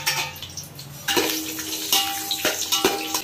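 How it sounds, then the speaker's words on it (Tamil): Crushed garlic fries in oil in a pan, crackling and sizzling up close, with a few clinks and scrapes of a utensil against the pan marking a loose rhythm, and no talk. "இப்போ இந்த பூண்டு நல்லா வதங்கிடுச்சுங்க"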